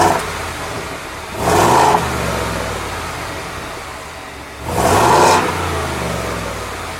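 A 2020 Ford F-250 Super Duty's 7.3-liter V8 with stock exhaust idles with a deep rumble, then revs up twice in loud bursts, each settling back to a steady idle.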